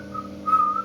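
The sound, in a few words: imitated whistling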